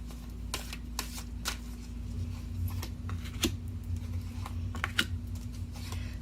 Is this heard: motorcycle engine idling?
no